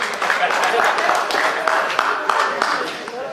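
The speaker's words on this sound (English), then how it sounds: "A round of applause." An audience at a book launch in Masvingo applauds steadily for a few seconds, a dense spread of hand claps with a voice speaking over part of it.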